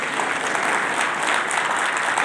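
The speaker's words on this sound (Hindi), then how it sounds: "ताली बजाकर बताइए, पूरी ताली बजाइए।" A large audience at a gathering in Delhi's Vigyan Bhawan claps together in a steady, dense burst of applause, loud and sustained throughout.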